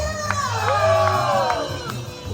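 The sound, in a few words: crowd screaming and applauding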